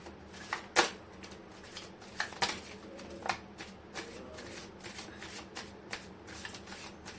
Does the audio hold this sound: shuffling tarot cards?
yes